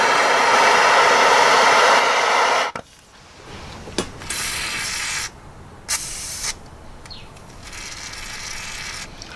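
A torch roars in a steady loud broadband hiss while heating a rusty, crusty bolt on a Jeep XJ front end. It cuts off abruptly after about three seconds, then short bursts of hiss return between quieter gaps.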